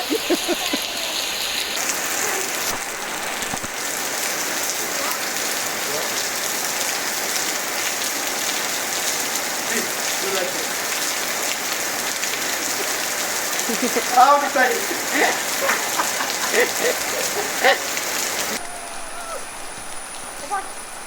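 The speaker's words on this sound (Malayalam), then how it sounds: "നാട്ടിൽ വന്ന് ഫസ്റ്റ് മഴ" Steady rain falling in Kerala, a dense, even hiss of drops on surfaces that continues throughout, close and loud, with brief voices and a few louder splashes near the end.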